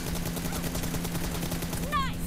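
Rapid gunfire rings out in the mobile battle royale game BGMI, a dense burst of repeated shots filling the moment, with a voice cutting in briefly near the end.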